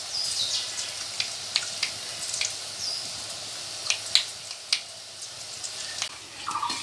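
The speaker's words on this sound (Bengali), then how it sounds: "আমি 1 মিনিটের মতো বুন্দিয়াটা ভেজে নিয়েছি, ভাজা হয়ে গেছে" Boondi, small drops of gram flour batter, frying in hot oil: a steady soft sizzle with scattered crackles and pops throughout, fairly quiet and close, with no talking.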